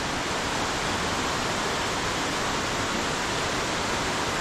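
A 120 m waterfall in Sounkyo Gorge, Daisetsuzan National Park, Japan: a loud, steady broadband roar of falling water that never lets up, heard alone with no voices.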